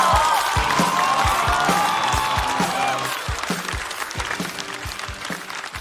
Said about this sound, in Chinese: 掌声有请来自过载喜剧的王凯峰。